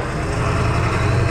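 A KC300X turbo engine running on a JeliBuilt drag race tune roars loud and close, a dense, steady engine drone with no pause and no voices.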